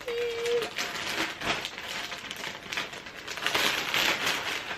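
Crinkling and rustling of a plastic bag being handled while unpacking a 34-inch 613 blonde wig, with irregular close-up crackles and bursts of plastic noise.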